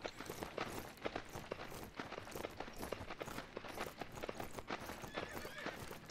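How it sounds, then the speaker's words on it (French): Horse hooves clip-clop in the game Myth of Empires, a rapid, irregular run of close hoof strikes that continues steadily throughout. "C'est un cheval."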